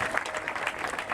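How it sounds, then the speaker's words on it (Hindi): An audience at an outdoor athletics javelin throw competition applauds, a brief burst of steady crowd clapping with no break. "तालियों की गड़गड़ाहट इतनी नहीं चाहिए"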